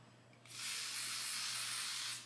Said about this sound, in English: I'm gonna use the wig dealer spray just to spray this wig down.